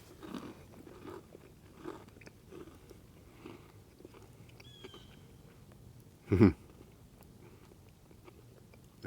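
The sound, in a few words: chewing and biting into a fried beaver tail pastry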